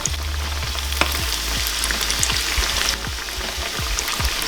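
Beef and red wine ravioli fry in a hot pan, a loud continuous sizzle and spatter with scattered pops and soft knocks as pieces are dropped in and shifted.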